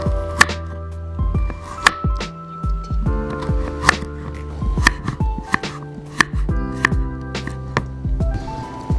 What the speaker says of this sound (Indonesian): Sambil nunggu itu, sekarang kita mau bikin sayurannya. Kita iris tipis.